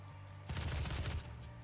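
Rapid burst of gunfire in the DOOM video game, a loud fusillade of shots lasting under a second that rises abruptly from a quiet background and then cuts off.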